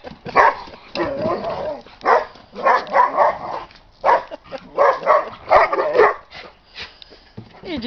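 Puppies barking, yipping and whimpering in quick, uneven bursts, close and fairly loud, with short pauses between the yelps.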